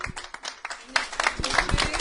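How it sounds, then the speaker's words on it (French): Audience applause at a formal ceremony handing over duties near Aix-les-Bains: scattered, fairly quiet claps mixed with talking voices. "Applaudissements évidemment."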